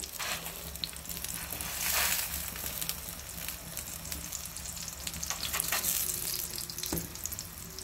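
Bajra roti cooking on a griddle with ghee spread over it gives a steady, even sizzle with fine crackles that swells briefly about two seconds in. No one speaks over it.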